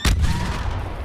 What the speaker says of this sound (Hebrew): איזה פיצוץ, אחי.